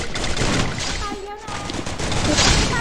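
A dense, continuous roar of rapid gunfire fills the moment in the video game Free Fire, and a voice speaks briefly beneath it.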